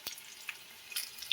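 Pumpkin and potato pieces frying in oil in a pan, a faint soft sizzle with a few quiet crackles and pops, close and brief, no talk.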